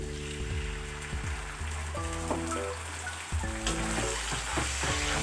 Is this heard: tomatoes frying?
yes